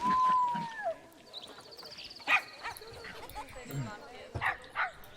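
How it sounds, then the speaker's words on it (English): A small wolf from the Planet Zoo game gives short yips and soft bow-wow barks. The calls come in brief bursts among chirpy game sounds, with some talk mixed in. "Little bark."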